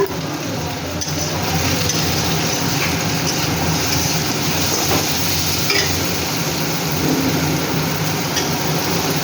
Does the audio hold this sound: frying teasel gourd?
yes